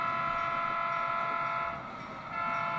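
An HO scale model railroad train rolls along the track, producing a steady close mechanical hum and whirr that dips briefly before resuming, with no talking.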